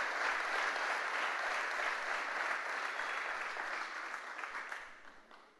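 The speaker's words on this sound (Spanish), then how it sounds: "¿Por qué no un fuerte aplauso por esta palabra?" A church congregation claps in strong, sustained applause that fills the room evenly for several seconds, then gradually thins and fades toward the end, with no talking over it.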